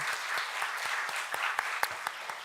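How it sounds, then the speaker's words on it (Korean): Church congregation applauding the youth and young-adult groups at a joint dedication service, a continuous patter of many hands with a few sharper individual claps standing out, heard from a moderate distance and fairly soft. "우리 다시 한번 박수로 격려하도록 하겠습니다"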